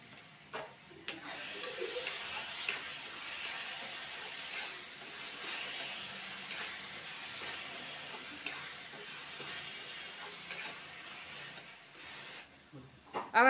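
Apple halwa sizzling and bubbling in a pan on the stove, a steady soft hiss with faint stirring scrapes throughout, no talking.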